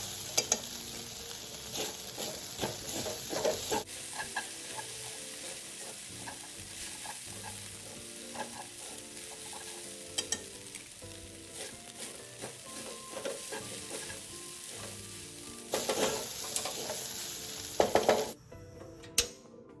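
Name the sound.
stir-frying rice vermicelli with fish sauce in wok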